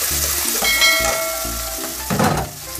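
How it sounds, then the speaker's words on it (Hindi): A ground spice paste with cumin seeds fries loudly in a pan for bathua sabzi, a constant bright sizzle with occasional stirring, under steady lower tones. "तो इसको मसाले को पका लेते हैं।"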